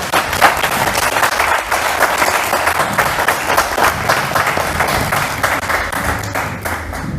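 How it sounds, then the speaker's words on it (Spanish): A conference audience at a memorial lecture series breaks into loud, sustained applause welcoming a speaker, dense overlapping claps filling the room steadily for several seconds before thinning slightly near the end. "Con un fuerte aplauso recibimos a Adriana Rosa"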